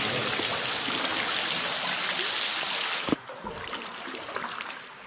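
Water pours steadily from a ceiling in a cave-like dome, a loud continuous waterfall rush that stops abruptly partway through, leaving quieter dripping and ambient sound.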